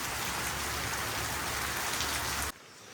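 A heavy downpour hisses loud and steady for about two and a half seconds, then drops suddenly to a much quieter, distant patter.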